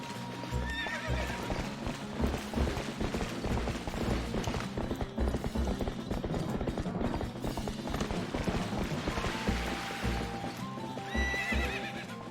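A horse neighs and gallops in the video game Twilight Princess, rapid hoofbeats running continuously with whinnies rising above layered game music and mechanical creaks.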